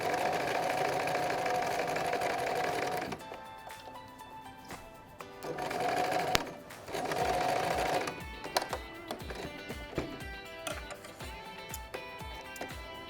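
Sewing machine stitching a blouse princess seam for a designer lehenga-style blouse, running in several steady bursts separated by pauses and soft handling of fabric, fairly close.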